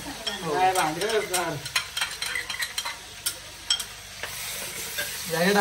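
Thick gravy sizzles loudly in a pan while a spoon stirs and scrapes it repeatedly, and a voice speaks briefly at the start.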